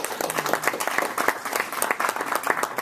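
Steady applause from a room full of people, dense overlapping clapping that continues evenly throughout.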